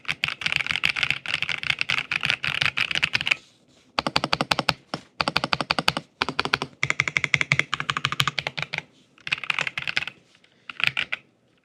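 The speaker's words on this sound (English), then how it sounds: "Normal typing." Typing on a Royal Kludge keyboard produces bursts of rapid, crisp keystroke clatter up close, several seconds long each, separated by brief pauses and ending in a few short runs of keys.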